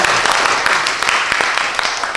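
Audience applause at a Korean lecture on international affairs, a dense, steady wash of many hands clapping at once, loud and close, continuing for about two seconds with no speech over it.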